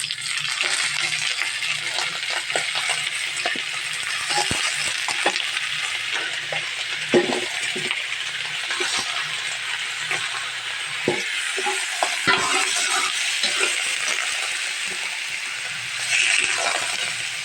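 Chicken feet frying in a pan, a constant loud sizzle overlaid with repeated metallic scrapes and clinks of a spoon stirring against the pan, close by and continuous throughout.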